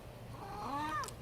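A cat gives a single drawn-out meow with a rising then falling, slightly wavering tone, close and moderately loud in a quiet room with no talking.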